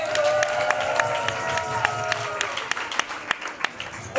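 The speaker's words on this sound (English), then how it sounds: "Big applause for Pigo Tamala." Spectators at a hip hop dance battle clap and cheer briefly, a crowd burst that thins into scattered claps beneath a host's voice.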